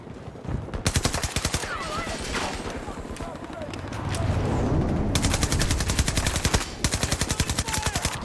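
Rapid automatic gunfire in the shooter game Battlefield 2042, long dense bursts of rattling shots, loud and close, with brief pauses between volleys and a voice talking over the action.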